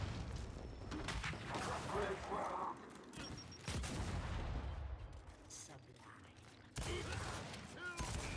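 Gunfire in the Gears 5 video game: several sharp, loud bursts and rattling volleys crack out in quick succession over a busy, noisy battle backdrop.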